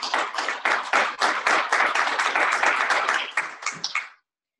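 Scattered people spaced across a room at a resident association meeting clap for several seconds, a fairly close flurry of individual hand claps that thins out and stops abruptly.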